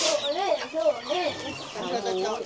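Chickens cluck close by in a rural village along the Vietnamese border, a run of short rising and falling clucks repeating in quick succession, loud and near with no voices over them.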